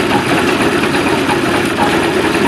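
A boat stern drive engine idles steadily around 600 RPM, a loud, close, even low rumble with a constant vibrating throb and no change in pace.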